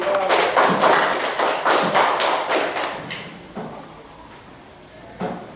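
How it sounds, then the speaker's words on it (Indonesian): A classroom of students applauds a classmate, a burst of rapid, dense clapping that thins into a few scattered claps and fades out, with one last clap at the end. "Kita beri aplaus untuk Pandi"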